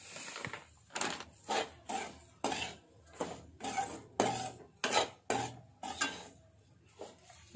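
Semolina is stirred in a pan, about a dozen rhythmic scraping strokes at a steady pace, close and distinct with brief pauses between them.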